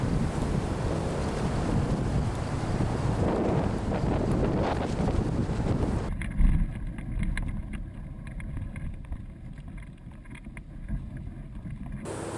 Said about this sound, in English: It is finally nice windy weather,